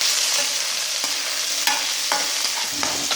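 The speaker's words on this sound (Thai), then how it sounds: "เออเอาหมูลงไปลวนนะคะ ไปผัดให้มันหอมก่อนนะคะ" Pork stir-frying with fried garlic in a pan gives a steady loud sizzle, broken by several sharp scrapes and clacks of a spatula stirring the meat.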